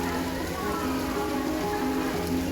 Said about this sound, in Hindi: ये बारिश आसमान को देखकर लग रहा था कि हाल फिलहाल में तो रुकने वाली नहीं है।